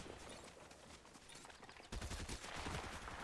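Rapid bursts of video game gunfire in Fortnite, a dense steady volley that grows louder and more intense about halfway through, with no one talking over it.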